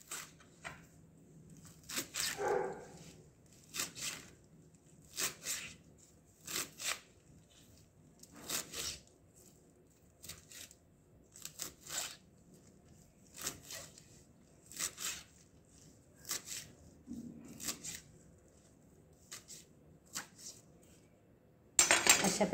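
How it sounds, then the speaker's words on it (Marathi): A knife chops washed chukka (sorrel) greens finely on a board, about a dozen crisp cuts falling in a steady, unhurried rhythm, close and fairly quiet with no talking. "चला तर आपण आता ही धुतलेली भाजी कट करून घेऊया."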